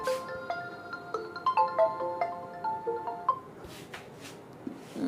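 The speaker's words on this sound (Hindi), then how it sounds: "थोड़ा फोन आ रहा है, देख ले।" A phone's melodic ringtone plays a quick run of bright electronic tones for about three seconds over a steady background hiss, then breaks off, leaving scattered faint clicks and rustles. Nobody speaks.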